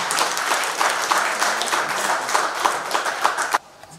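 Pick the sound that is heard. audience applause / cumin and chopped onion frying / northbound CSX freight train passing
audience applause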